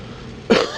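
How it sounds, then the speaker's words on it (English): A single short cough rings out close by at a glassblowing torch flame, following a steady soft hiss. "Oh, cough in the flame."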